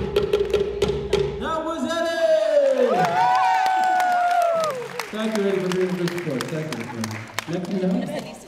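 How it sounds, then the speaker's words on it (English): An audience at a Mother's Day luau at St. Paul's breaks into loud cheering, whoops and clapping, with children's voices shouting and someone speaking over the crowd. "Everybody, round of applause for Arthur!"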